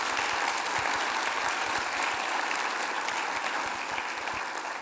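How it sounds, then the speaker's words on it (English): Sustained applause from an audience at a presentation in a large, elegant room, dense and steady clapping throughout that eases off slightly near the end. "can we take a minute, a round of applause for the team that made it all possible?"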